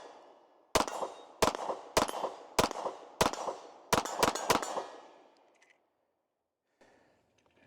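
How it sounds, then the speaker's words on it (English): Nine sharp pistol shots from a Nighthawk Sandhawk single-stack handgun, fired outdoors in an uneven series, loud and close, with ringing tails and brief echoes after the last round. "Let's go ahead and take a few more shots."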